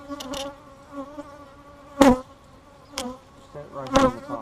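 Bees at a bee yard fly close around a camera, their buzzing rising and falling as individual bees zip past near the microphone, with a few louder close passes over a steady hum.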